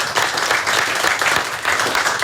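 Audience applause and clapping at a hip-hop radio show visit by Havoc, Big Noyd and L.E.S. at Yammat FM, a steady dense patter of many hands held for a couple of seconds.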